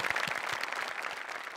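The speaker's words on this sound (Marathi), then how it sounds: "द ग्रेट दत्तू मोरे आणि आपला शर्मिश, यांच्यासाठी जोरदार टाळ्या होऊन जाऊ" Studio audience at a Marathi comedy show applauding the performers, a steady dense wash of many hands clapping close and loud without a break.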